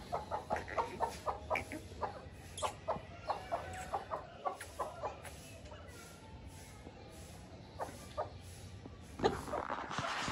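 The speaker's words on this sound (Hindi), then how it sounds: "आज होने लगा है अब्दुल्ला का मुर्गा ज़िबा" A rooster clucks in a rapid series of short, close, fairly loud calls, a pause, then a few more scattered clucks, with faint background noise and a brief louder sound near the end.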